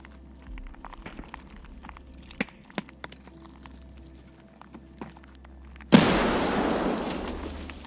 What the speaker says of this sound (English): When I heard the grenade, I'm like, F it, I'm pushing it